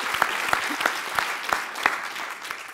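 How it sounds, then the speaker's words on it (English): Audience applause at a live speaker event, a steady wash of clapping with a few sharper claps standing out at regular intervals, fairly close and even in loudness throughout. "Please give him a big round of applause."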